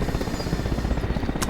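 A Russian attack helicopter in the Arma Reforger game, its rotor throbbing loud and steady throughout at close range with no voices over it.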